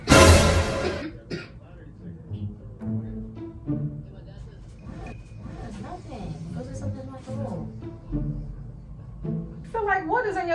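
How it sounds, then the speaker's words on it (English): A person gives a sharp cough or throat clear right at the start, followed by ongoing indoor conversation between people that carries on through the rest of the moment. "I'm just coughing"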